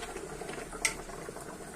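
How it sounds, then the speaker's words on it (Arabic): Chicken boils in a pot with a soft, steady bubbling and patter, fairly faint and continuous, with one brief sharper click partway through. "بعد ما غلا الدجاج بحال هكا غلا مزيان كما كتشوفوا"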